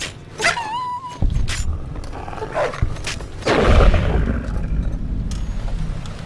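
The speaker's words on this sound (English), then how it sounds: "Got a bunch of dogs in here." Hostile dogs in the video game Fallout New Vegas: a sharp whine and yelps, followed by growls and snarls mixed with gunfire and combat noise, loud and close.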